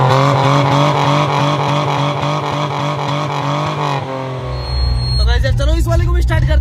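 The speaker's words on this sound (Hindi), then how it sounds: "कटने की वजह से इसकी जो आवाज है वो किसी रेसिंग कार की तरह है" A car engine with its silencer cut roars loudly up close, revving in a harsh racing-car drone that wavers rhythmically, then drops low before a second burst of throttle; people talk over it.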